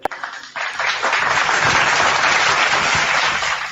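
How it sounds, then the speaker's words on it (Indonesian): An audience bursts into applause at a religious debate, a dense, steady roar of clapping that begins abruptly after a sharp initial sound and continues loudly to the end. "Tepuk tangan pula."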